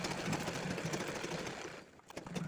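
A sewing machine stitches around the edges of leftover fabric scraps, a steady close mechanical whir that runs continuously before briefly pausing near the end and starting up again.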